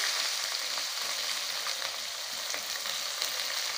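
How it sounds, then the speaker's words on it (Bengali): Garlic and onions frying in a wok make a continuous dense crackling sizzle, close and even throughout, with no voices. "এখন আমরা হচ্ছে পেঁয়াজটা ভেজে নিচ্ছি।"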